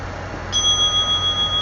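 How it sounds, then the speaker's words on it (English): A one-minute timer bell rings once during a quiet yoga session, a clear sustained high tone that lingers and slowly decays over soft room noise. "That was a 1 minute bell"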